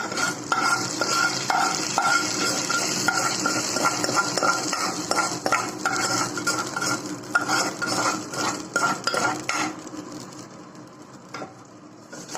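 A mustard seed and curry leaf tempering is poured into Kerala sambar. Sharp sizzling and spattering run loud and close for about nine seconds, then fade into a few scattered crackles and utensil clinks.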